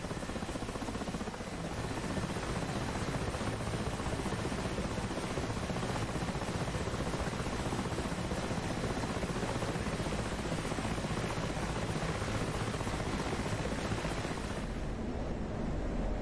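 A helicopter flies continuously, heard as a dense, steady rotor and engine roar that holds for the whole stretch before a slight drop in the highs near the end, with no talk.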